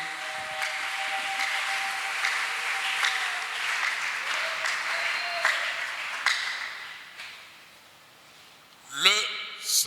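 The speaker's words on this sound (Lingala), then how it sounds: "Est-ce qu'on peut applaudir?" A church congregation at a Sunday service applauds for several seconds, a dense, fairly close clatter of clapping that thins and fades, followed by a short ringing sound at the end.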